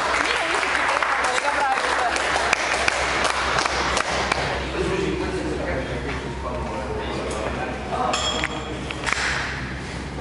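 A crowd applauds steadily for several seconds at a bench press competition, a dense clatter of clapping with voices mixed in.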